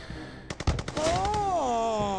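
A rapid burst of gunfire in the game Mafioso: Gangster Paradise rattles off several shots in quick succession, followed by a sustained electronic tone that wavers in pitch.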